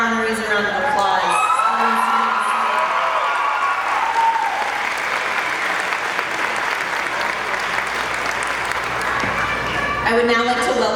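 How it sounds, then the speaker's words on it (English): Graduation ceremony crowd for the PUC LCHS class of 2022 applauds and cheers the honorees: loud, sustained clapping with whoops and shouts throughout, and a voice talking at the start and end. "Please join me in giving all our honorees a round of applause."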